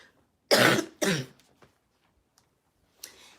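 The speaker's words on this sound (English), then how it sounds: "let me go to the doctor and ask about this darn cough" Two harsh coughs in quick succession, close and fairly loud, followed by a faint throat sound and a short softer cough after a pause.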